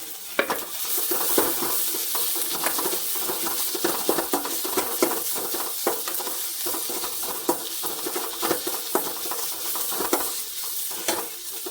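Beetroot, onion and tomato stir-fried for a beetroot poriyal in a pan, sizzling steadily throughout with frequent scraping and clinking from stirring, close and fairly loud, no talking.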